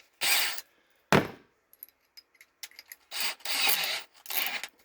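Short bursts of mechanical clicking and ratcheting as a 5/16-inch bit for self-tapping screws is fitted and tightened in a drill chuck, with small taps in between.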